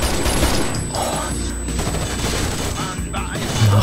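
Gunfire in the tactical shooter Rainbow Six Vegas, a dense continuous barrage of rapid shots with booms, steady and loud throughout with no pauses.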